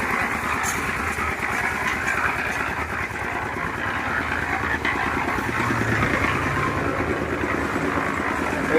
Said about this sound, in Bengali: এই দেখুন আমাদের বাবু স্যার বাইকটা মারাচ্ছে